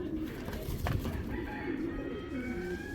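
Girbaz pigeons coo softly and low in a noisy setting, a brief murmuring call over a constant background hum.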